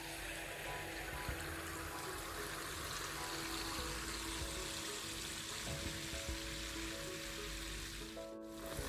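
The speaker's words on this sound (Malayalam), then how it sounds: "ഇനി നമുക്ക് മാവ് കോരി ഒഴിച്ച് നെയ്യപ്പം ചുട്ടെടുക്കാം." Wheat neyyappam batter frying in hot oil, a steady close bubbling sizzle that holds evenly throughout with no talk.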